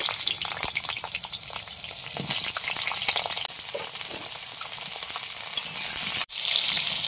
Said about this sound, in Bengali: এবার পটলগুলো ভাজা করে নেব।